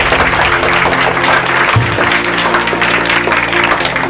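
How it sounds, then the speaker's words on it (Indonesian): An audience at a school gathering gives steady, dense applause that runs throughout, a continuous wash of many hands clapping with a roomy, reverberant sound. "Tepuk tangan."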